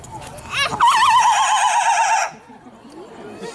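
A parrot at a zoo bird show imitates a horse's whinny: a single loud, quavering neigh lasting over a second, followed by quiet background.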